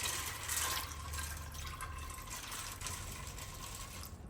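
About two litres of water poured into a cooking pot over washed beans, a soft steady rushing flow that tapers off near the end, fairly quiet, with no voices.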